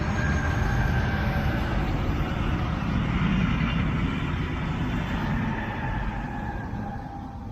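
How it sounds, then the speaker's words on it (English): A southbound Brightline passenger train rolls under a five-track signal bridge at Fort Pierce Yard, a loud, steady rumble of wheels on rail with faint squealing that holds level throughout and eases slightly near the end. "the southbound Bright Green passed under the 5-track signal bridge"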